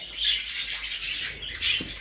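Jumbo budgerigars chirping inside a pet shop, a flock of bright, rapid overlapping chirps and warbles close by, with no one talking.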